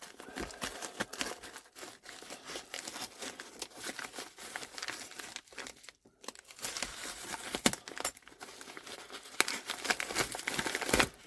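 A taped-up parcel is ripped open by hand, with bursts of crinkling paper and tearing tape close by, uneven and scrappy over a quiet background, with a brief pause partway through.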